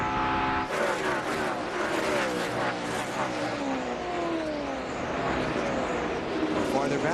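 NASCAR stock cars roar around the track during the 2004 MBNA America 400, engines droning loud and continuous with pitch sweeps as cars pass and race side by side.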